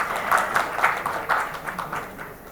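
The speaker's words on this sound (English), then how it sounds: "can we please keep the claps going here?" Conference audience at a two-wheeler industry panel clapping during a memento presentation, a moderate, slightly uneven patter of hands that softens toward the end.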